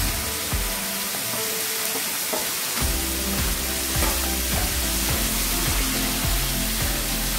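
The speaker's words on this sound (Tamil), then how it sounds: "இப்போ பாயில் பண்ண வெஜிடபிள்ஸை லைட்டாக வேலை ஃப்ரை பண்ணிக்கணும்" Boiled vegetables hit hot oil and shallow-fry with a loud, dense, continuous sizzle, while a spatula scrapes and taps the pan in a steady rhythm throughout, no voices.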